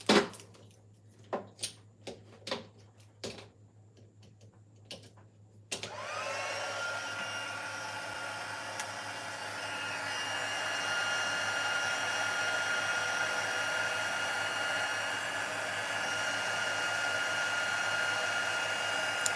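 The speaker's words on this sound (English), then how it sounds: "I'm just going to bring the heat tool in, warm it up, and then we're going to melt that powder." A craft heat tool switched on to melt embossing powder: after several sharp clicks and knocks, a loud steady whoosh of hot air starts and blows continuously to the end.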